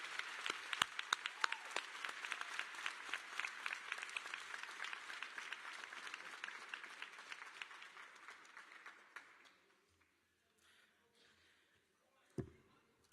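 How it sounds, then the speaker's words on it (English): A high school graduation crowd gives a sustained round of applause, dense clapping that tapers off after about nine seconds, followed by quiet room noise and a single thump near the end. "I need you all to give a heartfelt round of applause to CEO Gordon."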